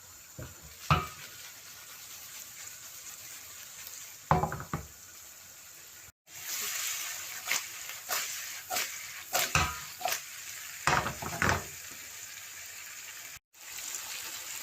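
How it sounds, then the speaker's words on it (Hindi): Mixed vegetables stir-fried on a high flame for macaroni, a loud sizzle broken by repeated sharp knocks and scrapes of a spatula against the pan, coming in irregular bursts with two brief drop-outs. "सिर्फ 2 मिनट के लिए सब्जियों को पकाना है हाई फ्लेम पे।"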